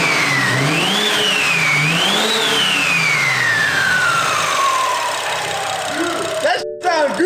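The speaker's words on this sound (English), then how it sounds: "By the way, I've never really heard a turbo sound that way." BMW F30 340i with a B58 engine and big turbo kit revs hard, its pitch climbing and falling through two pulls before a long sweeping wind-down, close and loud, with a brief voice near the end.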